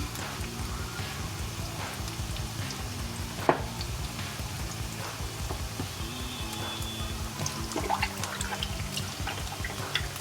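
Onion pakoda bubbling in hot oil: a steady, soft sizzle with light crackles and an occasional sharp pop, continuous and close, with no talking.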